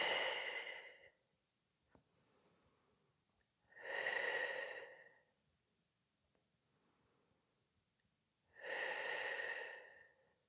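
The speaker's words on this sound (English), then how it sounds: "Nice big breaths." Deep breaths during a runners' rest and recovery stretching session, three long airy exhales spaced several seconds apart, close and clear with quiet between.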